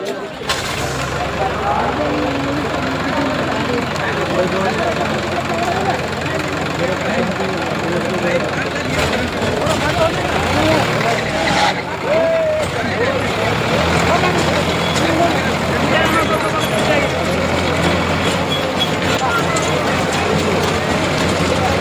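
A tractor engine idles with a steady low knocking rumble throughout, while people talk nearby over it, at a village fair wrestling event.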